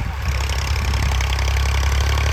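Loud, close chugging of a Massey tractor straining to pull a 16-disc harrow, a heavy rumbling engine note with rapid knocking beats throughout and no voices.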